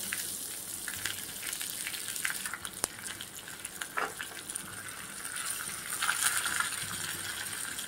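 Hot oil crackles and sizzles steadily with a bright hiss as a tempering of cumin and curry leaves fries, a sharp tick partway through and a louder burst of spattering near the end.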